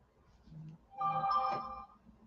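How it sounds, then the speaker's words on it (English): A phone rings once nearby, a short electronic tonal ringtone rising out of a quiet room before fading away. "There goes my phone again."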